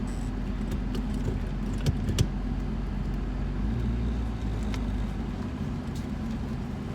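A Honda Prelude drives after a brake caliper repair, its engine and road noise a steady low rumble with faint jangling and a couple of brief clicks, heard alone without talk.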